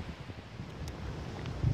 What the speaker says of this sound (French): trop de vent dans ce pays